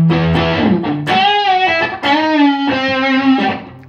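A Les Paul electric guitar played through overdrive pedals into a blonde Fender Deluxe Reverb Tone Master amp rings out loud and close in sustained, distorted notes and chords with a gliding, bending melody.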